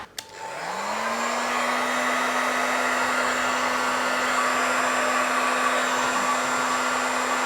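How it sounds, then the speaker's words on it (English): Heat gun blowing hot air in a steady, continuous whoosh with a constant motor whine, close and unbroken throughout, no talking. "now I'm going to try and do it with my heat gun"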